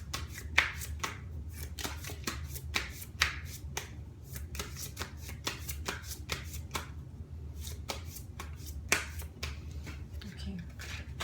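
Tarot cards being shuffled and drawn, with repeated crisp riffling bursts and slaps close up, irregular in rhythm, over a low room hum.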